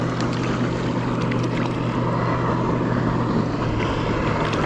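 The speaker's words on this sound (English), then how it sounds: "There's another boat coming up." A motorboat on Lake Taneycomo drones steadily and loudly throughout, with a constant low hum and wash of water and wind noise, no voices.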